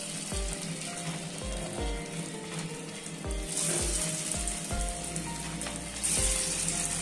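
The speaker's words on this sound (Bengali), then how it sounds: "দেখো একবার তেল দিয়েছি, ওটার মধ্যে আবার করে নিচ্ছি।" Food sizzles and fries steadily in a pan of hot oil, a close, continuous crackle punctuated by soft low thumps as pieces are handled and stirred, with no talk.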